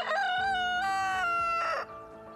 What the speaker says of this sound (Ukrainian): чути півня.